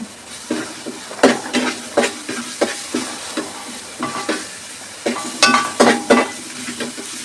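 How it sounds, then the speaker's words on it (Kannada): Spice paste frying in oil for a nati-style chicken biryani, with a close, steady sizzle broken by repeated stirring scrapes and clinks of a spoon against the pan. "ಈ ಪೇಸ್ಟ್ ಏನಿದೆ ಅದನ್ನು ಈಗ ಇದನ್ನು ಆಯಿಲ್ನಲ್ಲಿ ಚೆನ್ನಾಗಿ ಫ್ರೈ ಮಾಡೋಣ"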